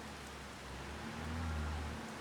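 Steady rain falls in Farming Simulator 25, an even hiss of drops with a low humming drone rising beneath it partway through, no voices.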